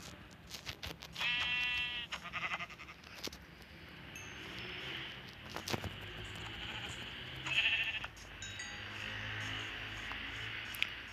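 Sheep in the Minecraft video game bleat repeatedly in short wavering calls, loud and close, with game ambience and no speech.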